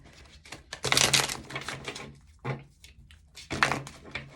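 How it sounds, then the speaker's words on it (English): Tarot cards are shuffled and pulled by hand at close range, coming in several bursts of riffling, slapping card noise separated by short pauses. "Let's pull some tarot cards."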